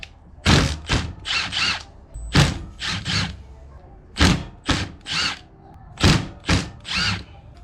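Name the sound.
impact driver with T30 Torx bit removing bolts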